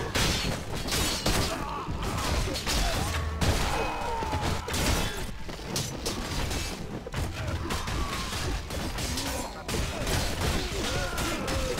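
Ranged units volley in a Mount & Blade: A New Dawn mod battle, with dense, continuous crackling gunfire and booms that overlap steadily throughout, loud and busy with no pauses.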